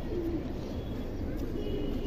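A pigeon softly cooing nearby, with low murmuring coos over a steady background hum.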